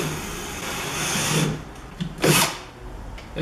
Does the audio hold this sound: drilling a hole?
yes